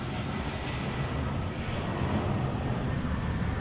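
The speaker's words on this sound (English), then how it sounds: "Still not over seeing some of these narrow body American domestic flights." A narrow-body American domestic jet airliner at Los Angeles airport produces a continuous, moderately distant engine rumble, even and unbroken, with no voices over it.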